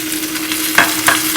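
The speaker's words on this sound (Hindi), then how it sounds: "सब्जी बिल्कुल पक गई है और हम इसमें ये टमाटर डाल देंगे।" Tomatoes go into a pan of frying French beans and potato, with a steady sizzle and two louder stirring scrapes near the end.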